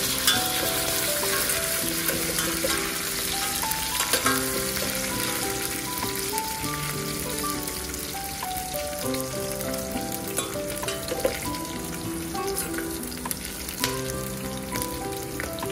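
Onions fry in a pan for masala rice, a steady, fairly loud crackling sizzle that holds throughout with faint pops and light background tones, no voices.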